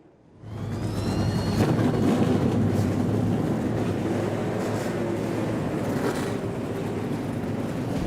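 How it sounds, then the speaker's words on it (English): A field of NASCAR Xfinity Series stock cars fires up at Dover for the Drydene 200. Quiet gives way within half a second to a dense, loud, sustained engine roar that rumbles steadily without letting up. "drivers, start your engines"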